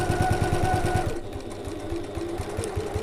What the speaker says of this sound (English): And then I'm just back stitching over where I started.